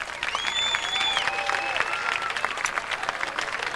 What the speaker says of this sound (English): Let's applaud for these guys.